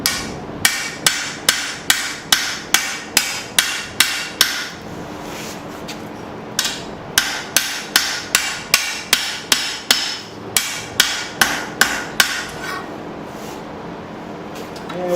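A hammer pounds a Bowie knife blade during forging, thinning and shaping it in quick, even bursts of sharp metallic strikes with a short pause in the middle, loud and close.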